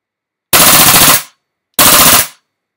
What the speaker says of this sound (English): And then, of course, in auto, which everyone loves on gas blowbacks.